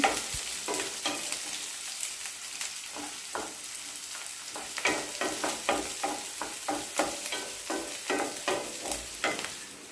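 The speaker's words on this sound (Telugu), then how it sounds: "ఉల్లిపాయలు ఆయిల్లో వేసుకుందాం పచ్చిమిర్చి ఉల్లిపాయలు కలుపుకోవాలి" Sliced onions and green chillies fry in hot oil in a pan, a constant sizzle under repeated scraping strokes of a spoon stirring them, close and loud with no voices.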